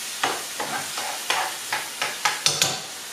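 Cooked tomato stuffing is stirred in a frying pan, a spoon scraping in about eight quick strokes over a soft sizzle, close and fairly loud, with no voices.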